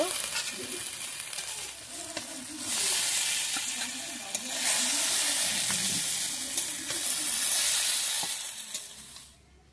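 Okra (bhindi) sautéed in a pan gives a continuous hissing sizzle, swelling louder in the middle and fading near the end, with faint background noise but no clear talk.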